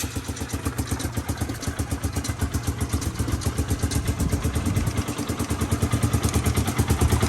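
A Polaris 500 golf cart engine idles with a rapid, chugging rhythm, close by and steady, growing slightly louder toward the end.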